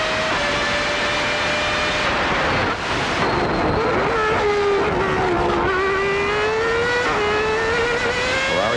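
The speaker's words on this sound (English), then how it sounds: "It's the Honda V10, the Mugen Honda V10 versus the Ferrari V12." A Mugen Honda V10 and a Ferrari V12 Formula 1 car race at the 1995 Canadian Grand Prix, their loud high-pitched engine wails shifting up and down through gears, one screaming note dipping then climbing again, with no speech.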